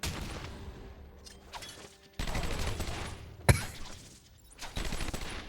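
Gunfire in Batman: Arkham Asylum, bursts of rapid shots separated by lulls, with one sharp, loud crack near the middle and further volleys after, no talking over it.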